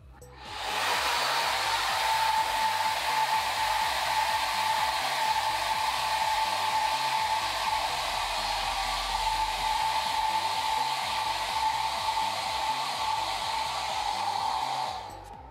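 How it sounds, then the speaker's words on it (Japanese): A handheld hair dryer blows down onto hair from above in a salon, flattening volume at the roots. It gives a loud, steady whirring roar that switches on, runs evenly for about fourteen seconds, then stops. "この状態で上からドライヤーをかけます"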